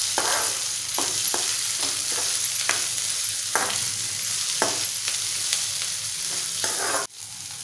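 Okra and softened, lightly browned onion frying in a pan while being stirred for bhendi bhaji, a loud continuous sizzle broken by repeated spatula scrapes, close up with no talk.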